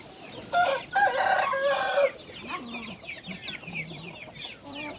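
Black Orpington chickens cluck close by while a rooster crows loudly once, a long hoarse crow followed by softer overlapping clucks and murmurs from the flock.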